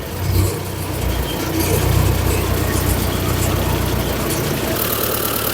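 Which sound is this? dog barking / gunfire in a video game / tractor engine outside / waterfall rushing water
tractor engine outside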